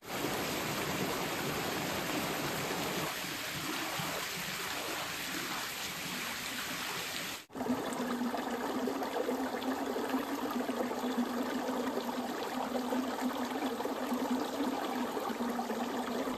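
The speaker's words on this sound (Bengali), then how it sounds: "ঝর্ণা না, একটা ছোট্ট স্ট্রিম চলে যাচ্ছে, ছোট্ট একটা স্ট্রিম।" A small mountain stream near Tumling rushes in a steady broadband wash. Partway through there is a brief dip and a shift to a fuller, closer flow, which stays continuous and loud with no voices.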